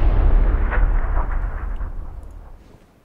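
Grenade blast in PLAYERUNKNOWN'S BATTLEGROUNDS, one loud, deep booming explosion at the very start that rumbles and steadily fades away over about three seconds.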